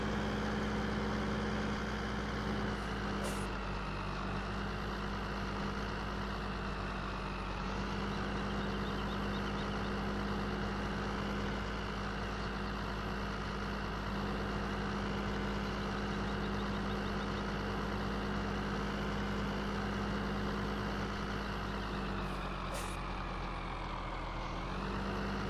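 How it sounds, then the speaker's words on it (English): A big truck's diesel engine idles steadily in Farming Simulator 15, a deep continuous rumble held at a constant level for the whole stretch, with faint brief higher tones near the start and end and no talking. "This truck sounds pretty mean though."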